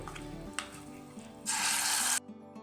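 Masala paste for egg curry hitting hot oil, a sudden loud hiss that flares up partway through, holds steady for under a second and cuts off abruptly, after fainter clatter.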